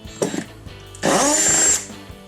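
A short burst of a power tool motor, preceded by a brief clatter, runs loudly for under a second and then cuts off, while removing side skirts from a 2010-2015 Chevrolet Camaro.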